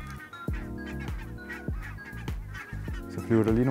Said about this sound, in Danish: Så flyver der lige nogle gæs hen over os.